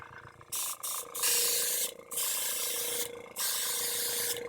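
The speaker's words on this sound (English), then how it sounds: "I'm going to go ahead and flip on my compressor here." Thinned paint is test-sprayed from an air-compressor-fed spray gun, heard as several loud hissing bursts of spray with brief pauses between them.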